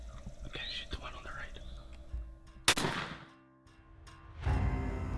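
Gunshot at a wild turkey during Pennsylvania's youth turkey season, a single sharp loud blast with a short echoing decay outdoors, preceded by quiet whispering and followed by rustling movement.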